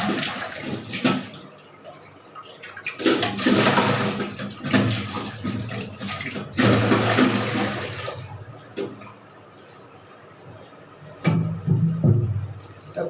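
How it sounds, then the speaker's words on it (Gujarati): Water pours and splashes into a clay water pot in bursts, loud and close, with pauses between pours and a few knocks of handling. "હાલો ભાઈ ગોળામાં પાણી ભરી લઈએ"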